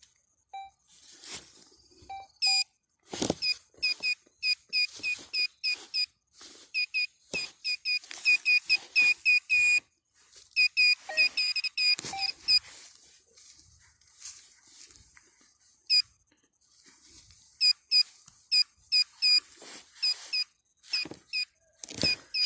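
Repeated high electronic beeps from a metal detector with a dying battery, in quick irregular bursts, with scraping and digging noises between them and stretches of quieter ground sounds, in Brovary forest.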